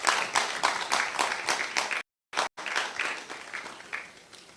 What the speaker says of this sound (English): I think something that we must applaud Onua TV for that.